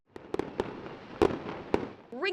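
Sharp, irregular bangs of celebratory gunfire ring out on New Year's in Milwaukee, about five loud cracks spaced unevenly over a couple of seconds, each trailing into a reverberant outdoor wash, with a wailing tone rising at the end.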